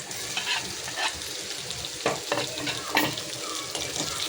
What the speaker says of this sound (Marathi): जोपर्यंत टमाटर आपलं मेल्ट होत नाही आपण चांगलं शिजून घेऊया